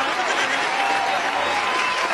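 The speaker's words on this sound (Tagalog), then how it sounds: "Pumalakpak na sila." Audience clapping at the end of a talk, a dense continuous patter of many hands at close range, steady and loud, with faint chuckles mixed in.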